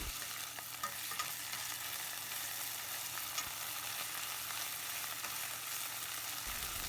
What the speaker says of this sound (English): Now add 2 spoons of ginger garlic paste to this and lower the flame and cook this.